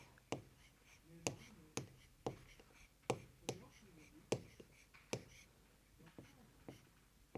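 The number 899 is written by hand during a Class 3 maths addition lesson: a quiet series of sharp taps and short scratches at irregular intervals, with no one talking.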